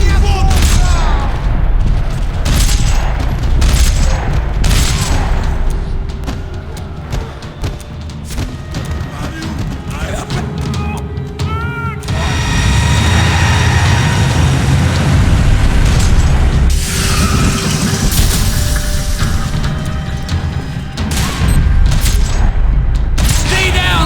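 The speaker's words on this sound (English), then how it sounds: "Another parking lot rattling with gunfire." Heavy gunfire rattles through a parking lot in Max Payne 3, with dense bursts, booming impacts and mechanical clatter layered over a game soundtrack, and voices break in now and then.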